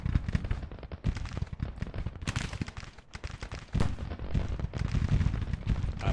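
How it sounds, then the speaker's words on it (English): Gunfire and artillery booms in a Civil War battle video game, irregular loud blasts and crackling volleys overlapping densely, some heavy low thumps, no talking. "Get your battery up there and start firing."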